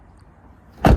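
A repaired Fiat 500 Pop car door swings shut with a single solid thud near the end, after a quiet lead-in.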